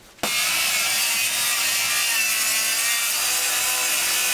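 A saw cuts steadily through wood inside an off-road caravan during an interior renovation, a continuous close rasping that begins abruptly and holds without pause to the end.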